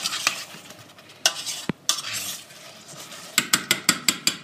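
Carrots in cream warm gently over low heat in a pan, with soft sizzling and several sharp clicks of a utensil stirring and tapping against the pan, including a quick run of taps at the end.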